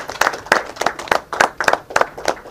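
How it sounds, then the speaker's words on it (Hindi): Applause at a memorandum signing ceremony in New Delhi, with distinct, fairly close hand claps in a quick uneven rhythm throughout, played alone. "जोरदार तालियों से"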